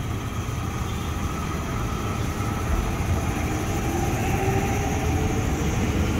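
A KRL Commuter Line train rolls through Mangga Besar station, a steady broad rumble of wheels and cars on rails holding constant throughout, with a faint rising whine partway through.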